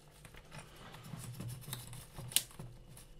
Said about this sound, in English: So I'm going to cut off the end here.